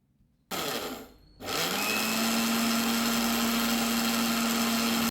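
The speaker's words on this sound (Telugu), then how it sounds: "ఒక కప్పు షుగర్ తీసుకుని దాన్ని మిక్సీలో వేసుకుని గ్రైండ్ చేసుకోవాలి" A mixer grinder grinds a cup of sugar into powder, a loud steady whirring motor roar with a brief dip early on before settling into a constant high drone that cuts off at the end.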